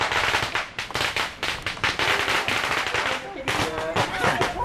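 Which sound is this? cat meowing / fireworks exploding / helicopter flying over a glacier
fireworks exploding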